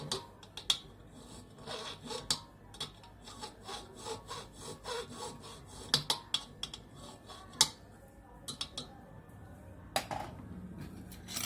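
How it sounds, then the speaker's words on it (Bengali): A metal file rasps along the edge of a workpiece in a run of irregular strokes, close and moderately loud, with sharp scraping bursts spaced through a steady rubbing texture and no talking. "আর এই এজটাকে একটু এটাকে ফাইল দিয়ে ঘষে নেব।"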